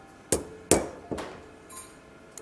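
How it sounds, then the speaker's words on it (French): A hammer taps the steel blades of a pair of handmade scissors to bring them into alignment, giving three sharp, ringing metallic strikes close by, each decaying quickly, followed by faint lighter clinks. "Le marteau est essentiel pour aligner correctement les lames."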